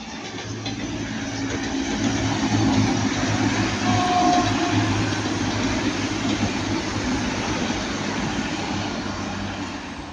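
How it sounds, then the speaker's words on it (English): A TransPennine Class 185 diesel train rumbles past at Ardwick, a steady loud engine drone and wheel noise that swells and holds throughout, with no voices. "Then we have Transpennine 185."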